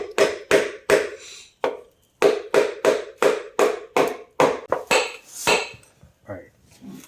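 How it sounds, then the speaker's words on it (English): Wooden end of a mallet tapping a part of a 420cc go-kart engine, a run of about a dozen sharp, close knocks in an uneven rhythm, with short pauses between some strikes. "I use the wooden end of a mallet"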